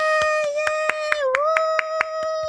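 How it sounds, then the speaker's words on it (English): One person claps about ten times in a steady rhythm as solo applause, the sharp claps sounding close over a sustained tonal hum. "so I'll just provide my own applause."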